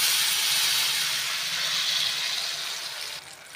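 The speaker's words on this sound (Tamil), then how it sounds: "இப்போ இதில் தண்ணி ஆட் பண்ணிக்கோங்க." Water poured into a bowl of rice flour for a steamed rice-flour dumpling batter, a steady hissing splash that holds for several seconds and then eases off, with no talk.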